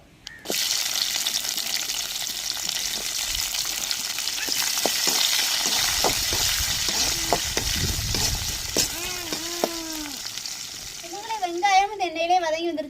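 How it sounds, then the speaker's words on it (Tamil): Chopped onions frying in hot oil that already holds curry leaves and dried chillies, a steady broad sizzle with stirring scrapes throughout, and a brief watery burst near the end. "வெட்டி வச்ச வெங்காயத்தை எண்ணெயிலே வதக்கி எடுத்துக்கிறோம்."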